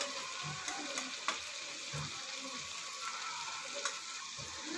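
Mixed vegetables sautéing in a pan for a Rajasthani-style fresh turmeric bhaji, a steady soft sizzle with a few light scrapes and clicks of stirring throughout, close and alone without voices.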